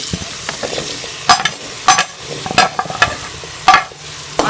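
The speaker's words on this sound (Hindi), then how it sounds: "इसमें मैं ये आलू डाल दूंगी। इसको हम फ्राई कर लेंगे आलूओं को।" Potatoes frying in hot oil in a karahi for aloo karahi: a steady close sizzle broken by several sharp crackling bursts and spatters, no voices.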